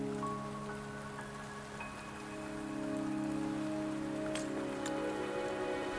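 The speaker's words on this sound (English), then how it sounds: "Don't worry, the rain won't last much longer." Steady rain pattering in the video game Wuthering Waves, a continuous wash over a low tonal music bed, with no voices.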